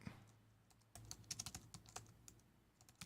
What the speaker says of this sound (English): I can hear you typing.